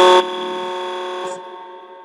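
A buzzer blares for a live-stream shout-out: a loud, steady electronic tone with strong harmonics that holds for about two seconds, briefly louder at the start and then fading slightly near the end.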